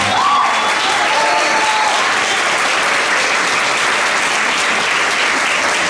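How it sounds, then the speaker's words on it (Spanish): An audience at a recital claps in a dense, sustained wash of applause that stays loud and even from start to finish. "Un fuerte pero muy merecido aplauso"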